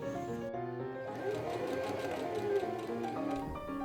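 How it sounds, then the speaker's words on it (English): A sewing machine runs a French seam on a flounce for Edwardian underwear, a steady close mechanical whir with a rapid needle rhythm throughout, softly stopping near the end. "I decided to French seam pretty much everything on this underwear set"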